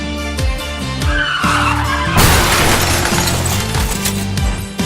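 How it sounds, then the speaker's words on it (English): Animated car crash on the drive to a school: a short tire squeal and skid builds into a loud impact with shattering and crunching debris, followed by scattered rattling, with no one speaking. "There was a car crash."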